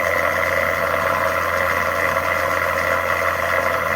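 An electric motor driving a generator hums steadily with a strong, constant drone and a higher whine, running evenly without change throughout.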